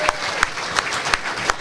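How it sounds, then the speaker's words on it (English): Audience applause at an annual Chaldean community event: a steady crowd wash broken by sharp, evenly spaced claps, moderately loud, with some voices mixed in. "how about a big round of applause for Mojo tonight for all the great work."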